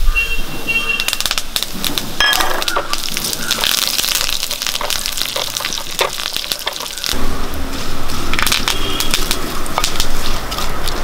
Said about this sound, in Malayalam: നമുക്കൊരു ശകലം കരിയാപ്പലി കൂടി ഇട്ട് ചൂടോടെ ഒഴിച്ചു കൊടുക്കാം